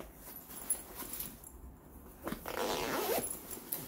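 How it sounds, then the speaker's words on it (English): Zippers are pulled along a Modoker convertible garment duffel bag, a faint scratchy zip heard in short bursts and then a longer rasping run close by. "you zip that up to the top, and you zip this other side to the top"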